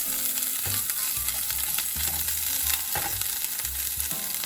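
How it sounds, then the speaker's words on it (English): Red onions and minced garlic sizzle steadily in hot olive oil in a pan, a continuous close frying hiss with occasional soft stirring scrapes. "Let's just lightly brown these"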